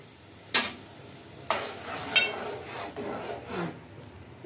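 Food colour being stirred into rice and water cooking in a pot for a Hyderabadi sweet rice dish, heard as a few distinct scraping spoon strokes over a soft bubbling hiss, close by.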